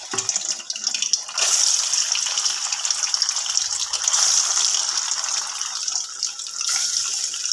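Soybeans fry in sunflower oil over low heat, giving a steady, bright sizzle that stays close and constant throughout with no talking.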